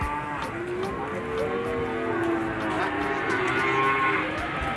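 PO cattle at a busy livestock market in Sleman moo loudly and close by, with a long, drawn-out low call over the crowd noise.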